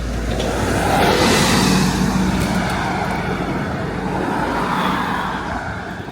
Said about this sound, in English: Let the bus go past.